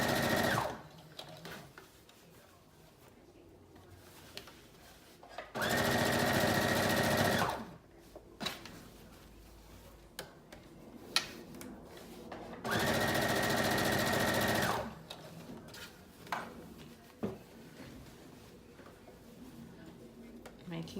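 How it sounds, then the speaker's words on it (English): A sewing machine stitches the bodice of a Simplicity 8637 wrap dress in two loud, steady bursts of about two seconds each, separated by quieter stretches of handling noise and a voice talking. "you're gonna stitch as far as you can"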